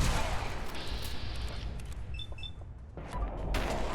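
Gunfire in the Fallout 4 video game: dense, rumbling bursts of shots and booming impacts under a constant noisy battle din, with a few brief metallic pings partway through.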